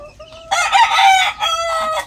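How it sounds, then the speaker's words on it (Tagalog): SBR hens in a backyard flock let out a loud, close, strained crow-like call, several drawn-out harmonic squawks in quick succession. "Ito, ang ating mga hen. SBR hen."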